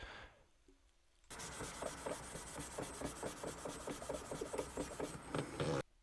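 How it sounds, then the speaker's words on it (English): A pad is rubbed briskly back and forth over the glass of a windshield where a rearview mirror button will be glued, a rapid rhythmic scrubbing that starts after a quiet pause and runs steadily for about four seconds, close and fairly loud. "rub this over the mirror button area, and then we're going to take and go reach up here and do the same thing on the windshield itself"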